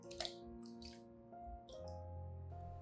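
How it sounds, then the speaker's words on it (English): An orchid rinsed under clean running water, with a faint trickle and scattered drips splashing over the stem and base, low and steady with no voices. "I'll rinse the orchid under clean running water"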